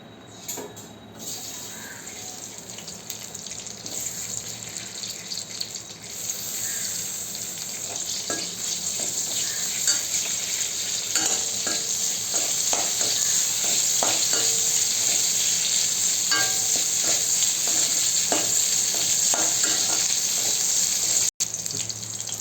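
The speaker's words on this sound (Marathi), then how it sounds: "आता ह्या भाज्या पण फ्राय करून घेऊया आपण तेलामध्ये थोड्याशा।" Cauliflower and other vegetables fry in a little oil with a continuous hiss that grows louder and denser, broken by scattered stirring clicks, close and without talking.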